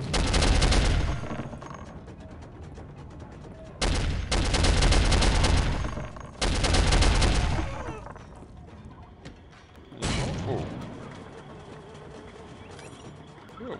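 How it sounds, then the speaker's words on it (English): A heavy machine gun fires in the Soldier of Fortune video game. It comes in several long, loud, rapid bursts separated by short pauses, and the last burst trails off into quieter echoing shots. "Back to the heavy machine gun."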